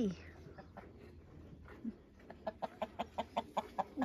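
Chickens clucking nearby, a run of short, evenly spaced clucks quickening toward the end after quieter, scattered sounds.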